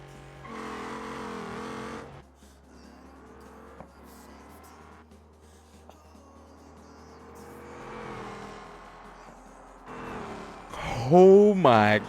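A V8 car engine in a racing video game revs in rising and falling bursts, swelling loudly near the end, with a voice talking over parts of it.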